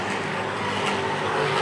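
Race cars roaring around the oval at Lee USA Speedway, with the number 00 car pressing for the lead; a dense, steady engine drone stays loud and close throughout, with no voices.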